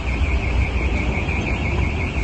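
A car alarm sounds continuously at a steady, loud level beside a truck being loaded with boxes of bananas, a single sustained tone running the whole stretch with no talk over it.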